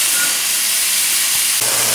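Beef sears in a pan over a high flame, making a continuous loud hiss and sizzle with no voices. A slight shift in tone comes near the end.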